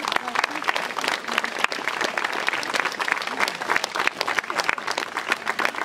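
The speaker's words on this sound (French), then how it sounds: "On peut encore applaudir Sabine et Denis." An audience at an evening show applauds with dense, continuous clapping that holds steady for several seconds, moderately loud and without a break.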